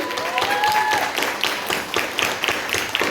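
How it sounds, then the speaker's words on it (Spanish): Church congregation applauding mothers who are disciples, a steady patter of clapping with a few voices and whistles mixed in, moderately loud and fading toward the end. "Un gran aplauso para todas las madres que son discípulas"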